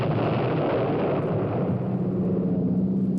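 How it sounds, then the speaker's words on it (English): A nuclear explosion rendered as a sustained, dense low roar and rumble, steady and loud throughout with a faint droning tone, no voices. "Nuclear explosion."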